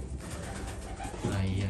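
A pigeon gives a short, low coo near the end, close by, with a voice speaking briefly over the soft background.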